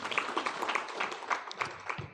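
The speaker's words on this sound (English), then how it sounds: "Give him a clap." Scattered clapping from a small law conference audience in Uganda, light and uneven, with a faint voice underneath.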